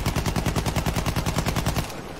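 Rapid automatic gunfire from the World War I shooter game Battlefield 1 rattles in a dense, evenly spaced burst of loud, punchy shots. It runs for nearly two seconds, with no voices over it.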